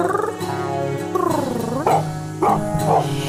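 A dog gives several vocal barks and whiny yips in quick succession, close and fairly loud, with pitch rising and falling between sharper bursts, heard alone without talk.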